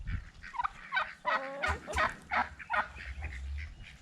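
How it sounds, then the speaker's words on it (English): Ducks out in a backyard give a run of loud, close honking and gobbling calls, several in quick succession with short gaps between them. "Hey, ducks, look at that."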